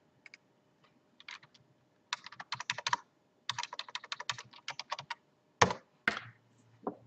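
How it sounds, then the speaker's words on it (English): A URL being typed on a computer keyboard, close and clear, as bursts of rapid key clicks separated by short pauses, ending with a couple of heavier single keystrokes. "I've gone ahead and typed in the URL to my NFsen server"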